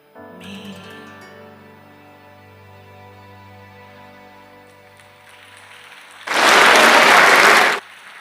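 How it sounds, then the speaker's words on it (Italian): Loud, dense burst of audience clapping lasting over a second at a live choral concert in Ollolai, rising suddenly after a quieter stretch of music and fading out abruptly. "anche per te questo applauso meraviglioso"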